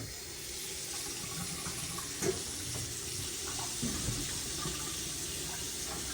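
Hot water running from a household tap in a newly built home, a steady hissing stream with a few small clunks, fairly close and with no talking.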